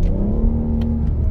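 A 2019 BMW M760i xDrive accelerates, its engine note swelling into a smooth, loud, close roar of revving from inside the car.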